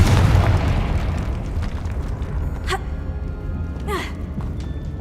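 A Confringo fire spell from Hogwarts Legacy bursts with a deep, booming blast at the start, then fades into a rumbling tail, with a couple of brief magical whooshes and shimmers following. Music and ambient game sound run underneath.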